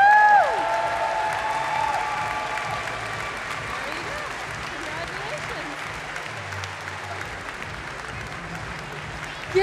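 Audience at MineCon 2012 breaks into loud, sustained applause and cheering right after the winner is picked, a full crowd clapping steadily with whoops over it, tapering slightly as it goes on.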